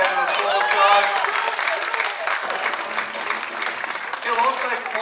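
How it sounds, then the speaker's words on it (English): Outdoor crowd at a tiger show gives a round of applause, steady clapping with whoops and a few voices mixed in, lasting several seconds at moderate distance. "Let's give him a bit of a round of applause,"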